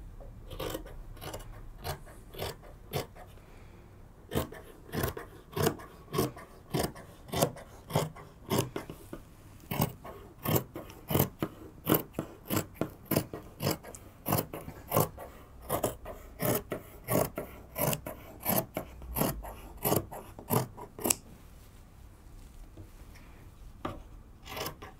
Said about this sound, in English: Next, I need to cut the back and the front.